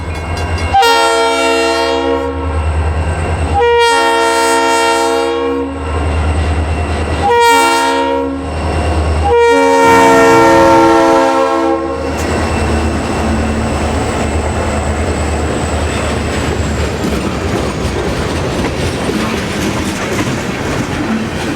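A local freight train rolls past CP Laurel near Reading, Pennsylvania, blowing several long horn blasts up close, with rumbling and clattering wheels continuing loudly after the horn stops.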